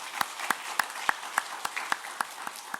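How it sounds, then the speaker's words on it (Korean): A church congregation applauds in a steady, evenly spaced rhythm of sharp claps, like a small group clapping together in unison, moderately close and without talk. "다시 한번 우리 축복하며 박수하겠습니다."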